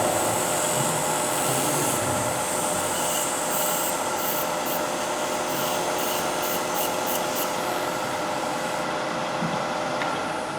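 Steady, continuous hand sanding rubs across a carved wooden surface, a dense close-up scratchy hiss holding at an even level for several seconds without any voices.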